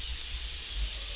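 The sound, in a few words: pressure cooker whistle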